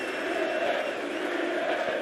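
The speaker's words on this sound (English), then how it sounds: "Again, the crowd chant his name." A packed darts crowd at the PDC World Darts Championship chants a player's name in a loud, rhythmic roar that fills the hall without a break.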